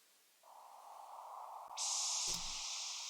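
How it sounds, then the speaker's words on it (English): White noise layer in an electronic music mix, entering as a steady hiss that swells brighter and louder partway through, sitting over a sustained mid tone with a brief low thump near the end. "that's pretty high actually, the white noise"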